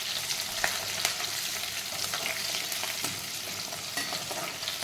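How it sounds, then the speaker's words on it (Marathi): Green chillies and chickpea leaves sautéing in a pan, a close, continuous hiss and sizzle of frying with occasional stirring scrapes throughout. "परतून घ्यायचा।"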